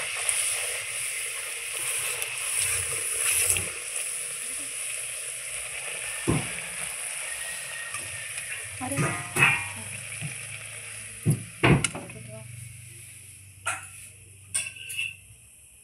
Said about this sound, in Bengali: তেল গরম হয়ে গেছে, এবার আমি লুচিগুলো ছেঁকে নিচ্ছি।